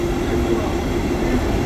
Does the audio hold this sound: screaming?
no